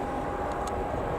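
An Embraer aircraft approaching at Newcastle Airport, a steady broadband engine roar heard from a distance, even in level with no break over the short span.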